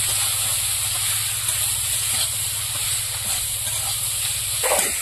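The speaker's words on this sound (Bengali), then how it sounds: "এবার কচু ভালো করে কষিয়ে দেবো।" Taro seasoned with salt and turmeric sautés in a pan, a steady close hiss of sizzling that runs evenly throughout, with a short clatter near the end.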